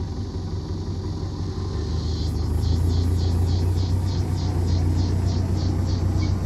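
A tractor engine runs steadily as a low, continuous rumble throughout, heard at a moderate distance outdoors, with a pulsing high insect buzz, like cicadas, joining partway through.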